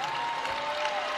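A Chicago Sky basketball crowd cheering and applauding at home near the end of a game against the New York Liberty, a steady loud roar of clapping with a whistle-like tone running through it.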